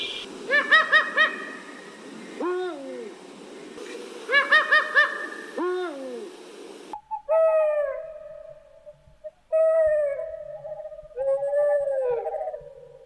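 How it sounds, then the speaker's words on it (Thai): Several owl calls from American and European owls: deep rhythmic hoots in quick bursts, then higher wavering hoots and trills, clear and close with short gaps. "เสียงที่ได้ยินนั่นก็คือเสียงของนกฮูกจากอเมริกาและจากยุโรปค่ะ"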